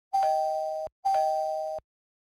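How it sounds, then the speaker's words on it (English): A hotel guest room doorbell chimes twice, two loud, clean electronic tones, each sustained for most of a second with a short gap between them, then silence. "staff will ring the doorbell twice and make an announcement."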